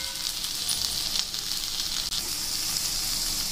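Stuffed okra (bharli bhendi) frying on a low gas flame, a steady close hiss of sizzling oil with faint scrape-like flickers, continuous and even throughout.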